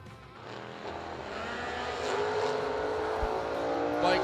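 Dragster at a drag strip roaring down the track, a loud sustained engine howl with rising pitch, steady and close throughout, no talk over it.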